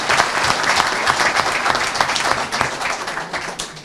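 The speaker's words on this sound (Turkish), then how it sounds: "Hepinize kocaman bir alkış, kendinize bir alkış olsun." An audience at a political party gathering claps steadily, a dense, fairly close round of applause with scattered sharper claps, sustained throughout and tapering only slightly.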